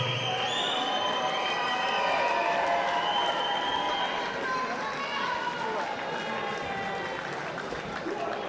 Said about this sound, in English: Please give these two fighters a huge round of applause